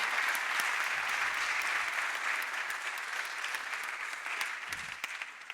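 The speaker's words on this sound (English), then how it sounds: "please give a really, really, really warm welcoming applaud for Laura Herman" Audience applause welcoming a speaker to a talk, a steady wash of many hands clapping that holds evenly and tapers slightly toward the end, heard from a distance.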